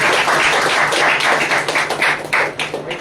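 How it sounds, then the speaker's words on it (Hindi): A church congregation claps during a Sunday worship service, a loud, dense patter of many hands in a quick, fairly steady rhythm that thins slightly toward the end. "ताली बजाएं"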